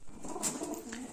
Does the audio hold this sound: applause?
no